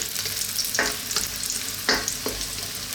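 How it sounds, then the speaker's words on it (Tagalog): Kikiam frying in a pan, a steady close sizzle broken by a few sharp scraping strokes of a spatula stirring the pieces, with no voices. "first step natin, lulutuin natin yung ating kikiam"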